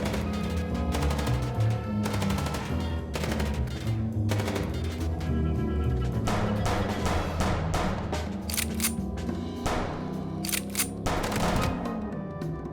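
Rapid bursts of video-game gunfire in Chicken Police, repeated volleys of sharp shots aimed at a car, loud and dense over background music, with brief pauses between strings of fire.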